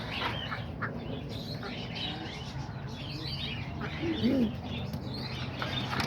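Homing pigeons in a loft coo softly and low, with a short rolling coo standing out near the end against a busy background of chirps and light rustling.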